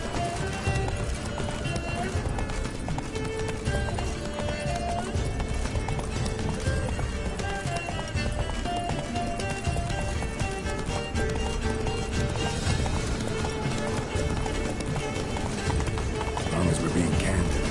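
The horse Roach gallops in The Witcher 3, hooves pounding in a fast steady clip-clop rhythm beneath music and conversation between characters.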